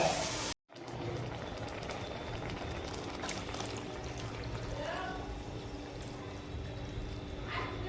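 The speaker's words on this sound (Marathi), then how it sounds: "आता त्यामध्ये मी गरजेनुसार पाणी ॲड करते" A gentle pouring and trickling of water into a pan of sautéed spice paste for matki usal, fairly soft, over a low steady background hum, after a brief moment of silence near the start.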